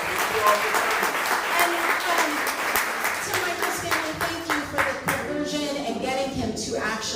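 Audience applause at an artist talk, a steady wash of many hands clapping that fills the room for several seconds, with voices murmuring underneath.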